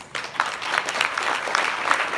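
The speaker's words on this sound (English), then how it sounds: "So I'd like all the Congress committee to stand up for a big round of applause." Audience at a congress gathering applauds its organizing committees, a steady patter of many hands clapping at moderate distance for the full two seconds.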